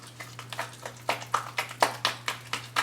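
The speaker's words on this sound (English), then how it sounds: "That is the sound of some good guacamole." Guacamole with a dollop of sour cream being stirred in a bowl gives a steady run of soft, wet, squelching taps at a quick even rhythm, close by and alone.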